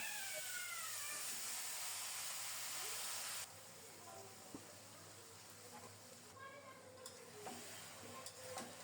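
Marinated chicken hits hot oil seasoned with whole cinnamon, cardamom, bay leaf and cumin, giving a loud sizzling hiss that settles into a steady, softer fry with occasional stirring clinks, all without any talk.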